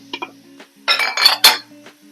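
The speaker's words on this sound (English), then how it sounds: "And now we'll add our onions. Give them a bit of a stir." Onions are stirred in oil inside an Instant Pot, a few scraping clinks of a utensil against the metal pot, with short bursts of sizzling scrape in the middle, close and alone.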